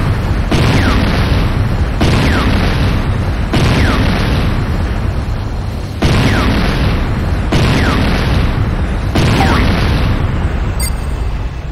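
Tiberium Refinery blowing up in the video game Renegade C&C, a series of heavy, booming blasts stacked into a loud, sustained rumble with repeated bursts, very close and overwhelming.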